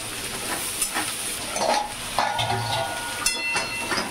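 Pointed gourd fries in hot oil with onion and garlic in a pan, heard as a close, fairly loud sizzle and hiss broken by a few stirring scrapes, with no voices.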